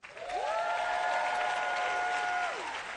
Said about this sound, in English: round of applause if you are over the age of 25